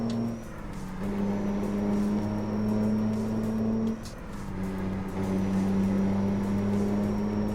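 A heavy truck engine in a truck simulator game, with an 18-speed Eaton Fuller shifter, revs up through each gear before upshifting, a steady droning roar that rises, dips briefly at a shift, then climbs again, with no talking.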